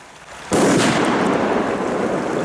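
A Zena Nitrate firecracker bursts suddenly and loudly, then a dense, roaring crackle and hiss carries on steadily as it keeps burning, close and alone with no voices.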